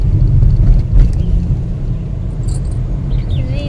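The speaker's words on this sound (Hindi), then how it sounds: "अभी मैं गाड़ी में बैठी हुई, ये ड्राइव कर रहे हैं" Cabin of a moving car, a steady low engine and road rumble throughout with a few faint rattles and high squeaks near the end.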